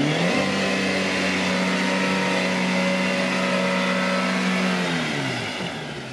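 A Jeep Rubicon, Gelandewagen or Pajero Sport 4x4 stuck in mud, its engine revving loud and sustained for several seconds at a steady high pitch, then dropping off near the end, with no talking.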